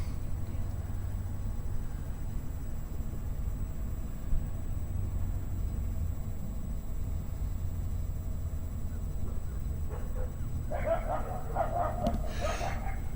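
Dogs bark in the distance at Evergreen Cemetery in Paris, Texas. A few faint yips and barks cluster near the end over a steady outdoor hum.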